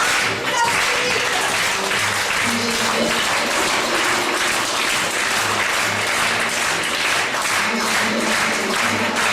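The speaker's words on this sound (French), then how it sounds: "je vais vous demander d'applaudir en rythme" Theater audience clapping in steady rhythm during an opening countdown, a dense, loud and continuous wash of hands with faint voices underneath.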